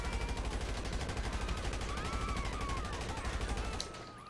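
Assault rifle fire in GTA V chatters in rapid sustained bursts at low level, a dense rhythmic stream of shots that ends abruptly near the close.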